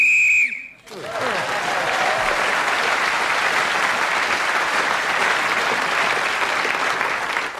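A whistle blown to end a turn on a panel game, sounding briefly at the start before loud, sustained studio applause takes over and continues.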